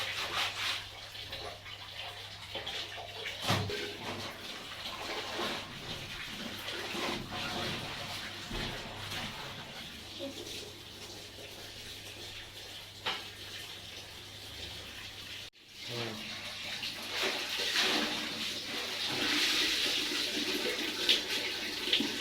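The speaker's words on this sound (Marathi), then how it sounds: "चला आता मस्त कपडे धुवून घेते" Clothes being washed by hand with running water at home, with continuous splashing, gushing and rubbing that is fairly close and rises and falls, with brief pauses.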